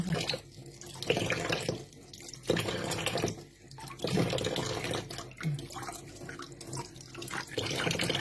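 Leafy vegetables washed one leaf at a time under a running kitchen tap, with a steady close splash of water and rustling and splashing bursts as the leaves are handled; no talk.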